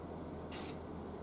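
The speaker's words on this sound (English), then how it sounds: "I'm going to spray here." A spray paint can hisses in one short, fairly soft burst while an antique Castle speaker is being restored, with quiet room noise around it.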